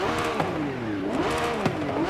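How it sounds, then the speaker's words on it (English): A Lamborghini Revuelto in Forza Horizon 5 revs in rising and falling sweeps, with two sharp blips of throttle, loud and close, and no talk over it. "Let's listen to the engine on this one."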